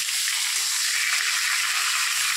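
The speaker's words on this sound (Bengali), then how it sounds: "এবার মাছের মাথাটা আমি ভালো করে একটু ভেজে নিই।" A fish head frying in hot oil gives off a steady, close sizzle with a fine crackling hiss that holds evenly throughout, with no talking.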